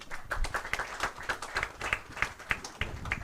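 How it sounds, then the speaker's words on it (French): Scattered applause from a small audience at a press conference after a presentation, fairly quiet and uneven, with individual claps standing out in a loose rhythm. "des applaudissements bien mérités pour cette brillante présentation"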